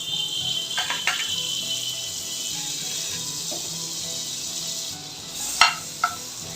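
Butter melts and sizzles in a pan as the base for a rajma masala gravy, giving a steady close hiss with a few light clinks near the end.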